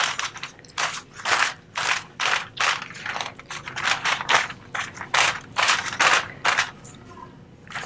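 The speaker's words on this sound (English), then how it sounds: "I'll place that foil underneath" Crinkly rustling of aluminum foil being handled and set under sections of hair during a pale blonde balayage, repeated bursts of crisp crackle close to the ear with no talking.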